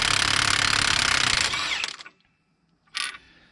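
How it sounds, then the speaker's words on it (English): A loud, close impact gun hammers steadily on a wheel nut of a 2003 GMC Sierra 2500HD, spins down and stops, then gives one more short rattling burst after a pause. "I'm taking it off with an impact gun"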